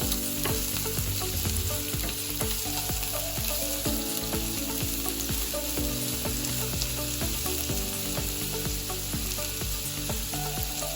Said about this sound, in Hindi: इसको अच्छे से चला के भून लेते हैं प्याज को।